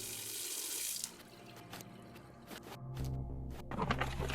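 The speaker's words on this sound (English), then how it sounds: "Sound of running water." A tap runs into a sink in the video game Encased, a brief hiss of water that cuts off, followed by soft thuds and a burst of flowing, splashing water toward the end.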